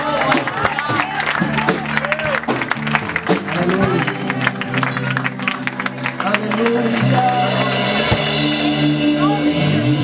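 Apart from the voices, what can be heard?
church congregation applauding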